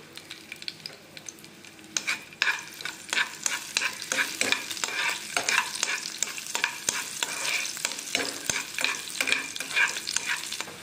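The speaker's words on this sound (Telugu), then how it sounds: "ఇప్పుడు 1 స్పూన్ మినప్పప్పు, 4 వెల్లుల్లి రెబ్బలు వేసి ఫ్రై చేసుకోవాలి." Urad dal and garlic cloves fry in hot oil in a pot, a steady close sizzle broken by repeated scraping stirs; the first two seconds are quieter before the frying sound fills in, and nobody speaks.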